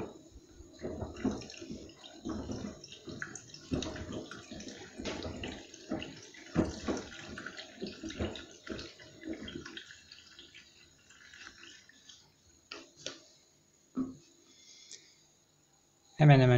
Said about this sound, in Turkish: Biraz daha su ekleyelim.